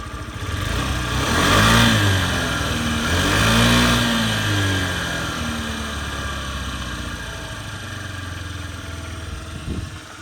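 A small carbureted Honda Dio AF-62 scooter engine idles up close, revving twice in smooth swells before settling back to an even, steady putter.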